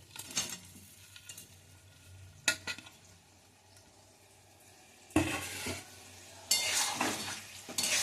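Fried cauliflower for chilli gobi stirred in a pan, with intermittent bursts of sizzling and metal utensil scrapes separated by quieter stretches, growing louder and busier toward the end.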